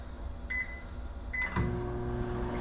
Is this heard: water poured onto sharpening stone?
no